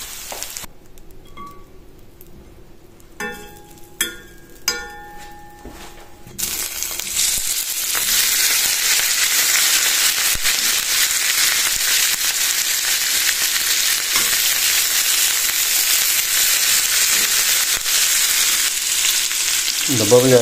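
Meat hits a hot pan on a village stove and breaks into a loud, dense sizzle that holds steady, following a few clinks and a quieter stretch of low crackling beforehand.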